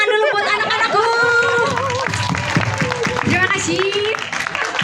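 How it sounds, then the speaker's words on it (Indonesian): An indoor press-conference audience claps for a group of children, a loud, dense patter of applause mixed with chatter and light laughter, while voices talk over it throughout. "Kita tepuk tangan dulu buat anak-anakku."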